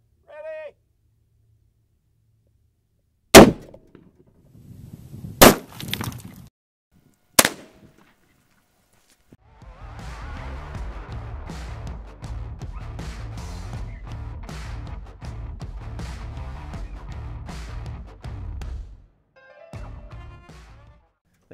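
Three sharp, loud gunshots strike ball-bearing body armor about two seconds apart, each a sudden crack. A stretch of talk follows.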